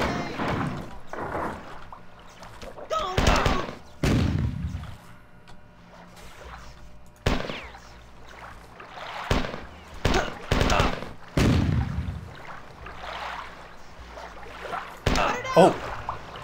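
Gunfire in the shooter game Marathon 2: Durandal, with several sharp bursts of shots spread across the stretch, mixed with game effects and a person talking throughout.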